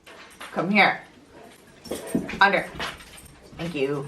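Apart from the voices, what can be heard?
dog freaking out, whimpering and barking on carpet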